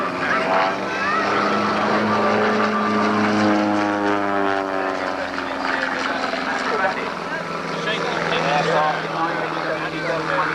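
Aerobatic team aircraft, a formation box and a solo plane, fly overhead with a droning propeller engine tone that rises and then shifts in pitch as they pass, steady and moderately loud.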